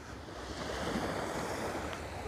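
Black Sea surf at Anapa on a freezing morning rolls as a steady, moderate wash of breaking waves, mixed with wind rumbling across the microphone.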